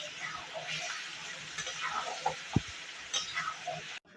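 Chicken coated in a yogurt-based marinade is stirred slowly in a kadai with no water added, giving a soft continuous sizzle, light scraping and one sharp knock of the spoon against the pan.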